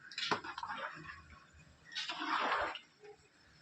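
A spoon works rice into chicken biryani in a pot, producing two soft bursts of scraping and wet grainy rustling, fairly quiet and close.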